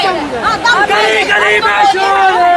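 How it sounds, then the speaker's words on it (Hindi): Crowd of student protesters at Jantar Mantar, New Delhi, a dense babble of many voices with overlapping shouting, loud and close. "आप सीधी तस्वीर में देखेंगे नारेबाजी हो रही है"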